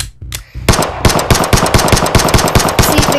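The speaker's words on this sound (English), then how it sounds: "So it's a pretty good gun, but it has no recoil." Rapid automatic gunfire from a gun in the VR video game SportMode VR: after a brief quiet start, a loud, sharp, evenly spaced burst of shots runs continuously to the end.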